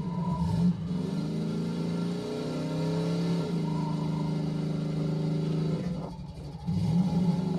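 Vehicle engine revving in a Halo-style shooter game, a close motor with rising and falling pitch sweeps that repeatedly climb and drop as it accelerates, with brief clatter between the surges.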